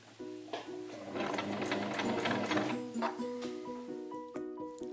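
A Bernette London 3 electromechanical sewing machine stitching fabric, a close, steady mechanical hum and rapid needle clatter that runs for a few seconds, then winds down while a voice speaks over it.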